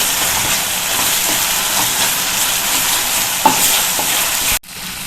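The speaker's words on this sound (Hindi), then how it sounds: "अदरक और हरी मिर्च का इसमें पेस्ट डाला है, इसको हम भूनेंगे।" Ginger and green chili paste sizzling and frying in hot oil for rajma masala, a steady crackling hiss with faint stirring scrapes, ending abruptly as the heat dies down.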